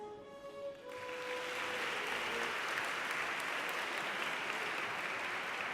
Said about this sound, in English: Let's make a huge applause for all the projects competing in the field of mathematics